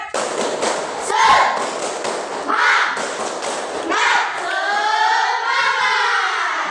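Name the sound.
rhythmic group clapping, a 'tepuk semangat' spirit clap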